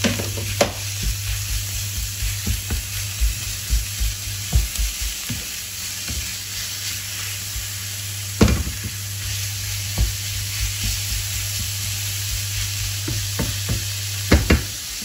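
Ground beef, 300 g, hitting a pan of translucent onions and sizzling steadily, with a constant frying hiss and scattered clicks and scrapes of a utensil moving the meat around.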